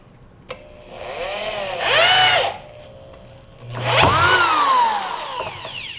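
A power drill drives a 2.5-inch screw through two pieces of soft 2x2 wood, two loud rising whirring bursts of a few seconds each with a short click before and a pause between them, no talk.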